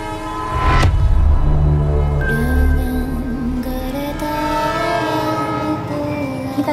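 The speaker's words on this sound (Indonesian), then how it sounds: "Kita lagi di kereta OTW ke Resort Sangkara." A tourist train rolls along the rails toward a resort, with a loud, close rumble and drawn-out tonal horn or whistle notes sounding over the running noise.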